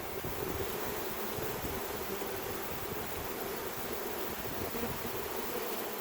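A swarm of honey bees hums in a thick, continuous buzz mixed with breathy wind-like noise on the microphone, steady and close with no speech.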